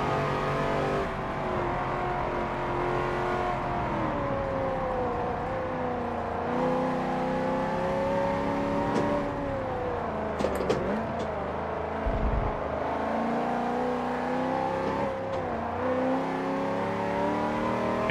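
A Holden car accelerates hard in the Forza Motorsport 7 racing game, its engine note climbing and shifting through gears in a steady, loud drone that runs the whole time with no talking.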